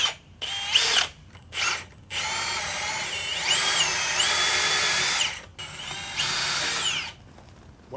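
A power drill with an oversized bit bores holes for M10 bolts through fence boards, several whining bursts that rise and cut off, with short pauses between them and no talk.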